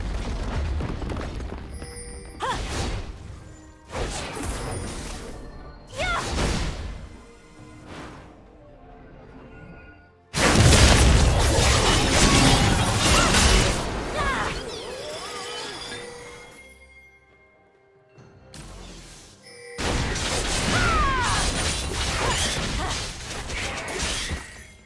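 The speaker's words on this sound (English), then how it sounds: "Blue team's turret has been destroyed." In League of Legends, a turret is destroyed amid repeated crashing, shattering bursts and booms during a match. Loud, dense impacts come in several waves separated by brief quieter gaps, with a voice heard at times.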